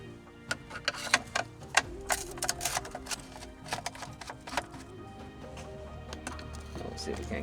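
Phillips screws being removed from the wiper switch panel of a 1980 MG, with irregular clicks and ticks from the screwdriver and small parts, close up, under a soft background hum.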